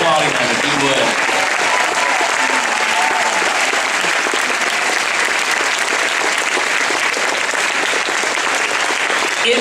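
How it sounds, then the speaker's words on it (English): A conference audience at an eWomen 2018 event applauds standing grandmothers, producing loud, steady clapping for nearly ten seconds with crowd voices mixed in. "Honor them by applauding them if you would."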